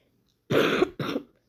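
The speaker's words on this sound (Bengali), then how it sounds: "ভিডিওর মধ্যে অনেকগুলো কাশির আওয়াজ" Two short, close coughs from a person with a fever, the first longer and the second following after a brief gap, with silence before them.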